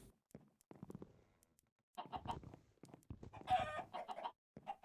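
Scattered chicken clucks and squawks in Minecraft, sparse at first then busier and louder, with a sharp squawk near the middle.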